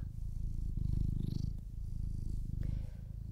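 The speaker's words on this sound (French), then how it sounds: "vous vous laissez aller à la passivité de ce ronron qui déjà vous berce" A cat purrs close up in a steady, rhythmic rumble that rises and falls with each breath, continuous and alone.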